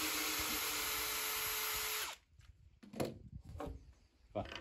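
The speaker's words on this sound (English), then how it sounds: "There's a little tiny gap here, so we've got to use the planer." A power planer shaving wood to close a small gap during a stone house roof and vaulted ceiling renovation: a loud, steady high whine for about two seconds, then it cuts off and people talk.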